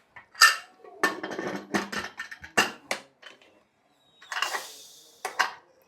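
A pressure cooker lid is handled and closed over vegetable pulao, with metallic clanks, scrapes and clinks in separate bursts, close and moderately loud, followed by a pause and two more short knocks.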